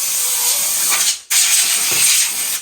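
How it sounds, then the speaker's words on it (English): Compressed air blasts dust and cobwebs off stored model train cars in two loud, sustained hissing bursts separated by a brief pause, close to the microphone with no talking. "we'll start with just spraying them off with some air"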